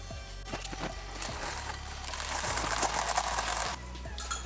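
A handheld electric mixer whirs steadily as it blends a homemade skin-lightening cream loaded with oils and vitamin E, a close, continuous motor drone with faint rattling that grows louder midway.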